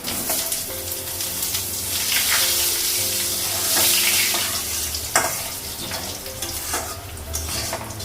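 Potatoes sizzle and crackle loudly in hot oil, a constant frying hiss broken by a few sharp clatters of a utensil against the pan.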